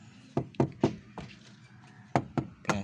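Tapping on a plastic storage drawer inside a Kia Visto car cabin: about eight sharp, close knocks in irregular pairs and singles, each with a hollow plastic thunk, and no talking.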